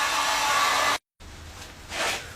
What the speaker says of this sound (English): take a heat gun